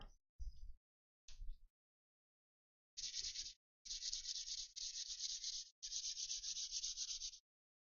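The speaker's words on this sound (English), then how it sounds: "give it a light sanding, brush the dust out" Sandpaper lightly smooths wooden parts of a UGEARS hurdy-gurdy kit in a quiet series of short, scratchy strokes: a few quick rubs, then longer back-and-forth passes close to the listener.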